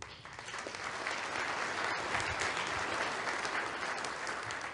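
An audience at an award speech claps in a full, steady round of applause that holds evenly for several seconds, with no voices over it.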